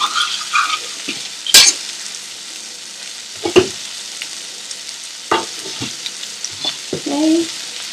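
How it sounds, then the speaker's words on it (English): Prawns frying in a pan for a prawn chilli fry, a steady close sizzle broken by scraping stirs and a few sharp clinks of utensils against the pan. "The prawns really fry quickly"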